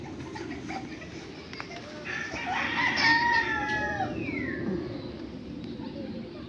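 Chickens cluck and a rooster crows in the middle, moderately near, over a steady background rumble, outdoors among farmyard chickens and ducks.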